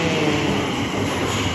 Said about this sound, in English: 5 a.m. The first train of the day.